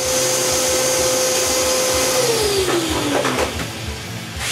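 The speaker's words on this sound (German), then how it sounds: "warum ich mir den Staubsauger zugelegt habe." A vacuum cleaner runs loudly and steadily while drilling is under way on a homemade smoker build, its whine holding a constant pitch and then sliding lower as the load changes.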